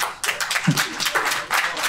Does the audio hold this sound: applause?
yes